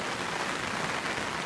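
Rain falling steadily during a fishing trip on the Miranda river, a dense, even hiss of drops on surfaces, close and continuous with no voices.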